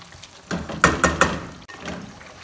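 A few spoonfuls of water are poured into chicken malai boti sizzling in a karahi, giving three short close splashes and a burst of hissing over the steady sizzle.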